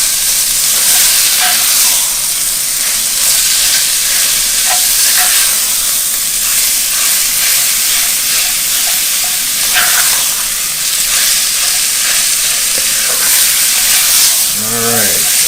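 Sausage browns in a cast iron pot as a steady, loud sizzle and hiss of frying fat, with occasional stirring scrapes throughout, close up and continuous.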